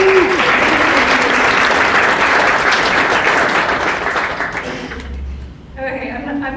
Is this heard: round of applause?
yes